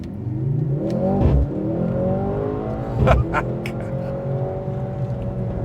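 A 671 hp 2024 Mercedes-AMG C63 S E Performance accelerates with a rising engine note heard from inside the car. The note climbs through the gears, with brief shift breaks around the first and third seconds, and holds a steady, moderately loud drone.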